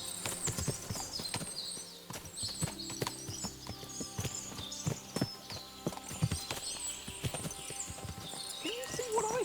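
Several horses walk in Kingdom Come: Deliverance II, their hooves clip-clopping in a steady, uneven rhythm close by, with occasional whinnies and other sounds over a busy background.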